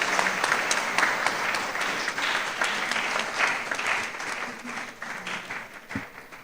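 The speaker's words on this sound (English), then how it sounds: "Let's clap so that she will get that." Audience at an academy induction ceremony giving a steady round of applause, dense clapping that gradually thins toward the end.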